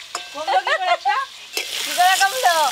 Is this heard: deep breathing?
no